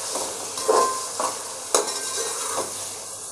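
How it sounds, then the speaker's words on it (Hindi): Tomatoes fry with a steady hiss in a pan for mutton yakhni pulao, while a spoon scrapes and stirs through them in several distinct pushes; the sound is close and fills the whole stretch, with no talking. "अब हम टमाटर को सॉफ्ट होने तक भून लेते हैं।"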